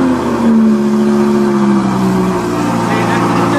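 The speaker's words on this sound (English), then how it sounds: "So now it's in performance. All right, rev it." An Audi MK2 R8 V10 Plus with Valvetronic exhaust, set to performance mode, revs loudly nearby, its deep engine drone rising and then easing back, with voices over it.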